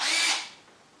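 A power drill drives a 17/64 bit into a stiff arm kit part, a loud close whir that holds steady for a moment and then eases off as the cut finishes.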